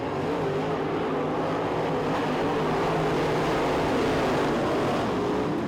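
Dirt track race cars roar through turns 1 and 2 at the Winter Nationals B-Main, a dense, steady wash of engine noise from several cars at a distance, loud and unbroken.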